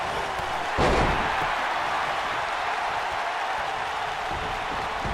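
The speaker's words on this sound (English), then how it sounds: "Drop kick. Oh, great height." In the WWE 2K19 wrestling video game, a drop kick lands as one sharp slam near the start. A steady arena crowd roar follows, holding at an even level to the end.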